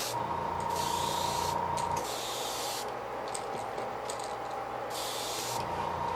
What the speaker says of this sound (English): We're just going to spray light coats and heat set between them on this jerk bait.